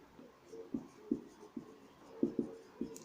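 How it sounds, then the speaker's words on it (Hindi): Chalk or marker strokes on a board during a welding theory class, a series of short scratchy taps and scrapes in uneven bursts, close and clear with no talking. "मैं पॉइंट वाइज लिखता जा रहा हूँ"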